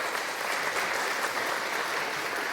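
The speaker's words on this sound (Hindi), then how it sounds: "जोरदार तालियां" Steady applause from an audience for a man being invited forward in a Hindi drama scene, a dense continuous patter of clapping that holds at an even level for a couple of seconds with no voices over it.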